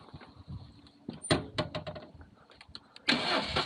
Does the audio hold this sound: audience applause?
no